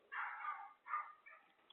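A dog barks a few times in quick succession, faint and somewhat distant, the last bark shorter and softer.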